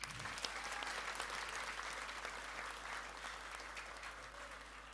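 Steady applause from a large audience at a government ceremony attended by the President, a dense wash of clapping held throughout at moderate, distant level.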